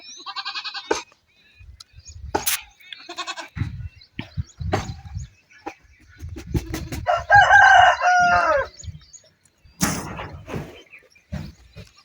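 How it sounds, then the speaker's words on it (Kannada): Chickens on a village farm cluck and crow in bursts across the clip, with one longer, louder crowing call near the middle, alongside scattered bleats from nearby goats and livestock; no talking. "ಇಲ್ಲಿ ನಮ್ಮ ಕೋಳಿ"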